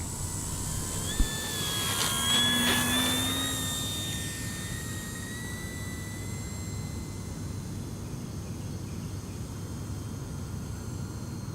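A Durafly Supermarine Spitfire Mk2a WWII fighter, a 1100mm foam electric RC model plane, takes off on its maiden flight, a motor whine rising then fading into a steady distant drone over wind noise.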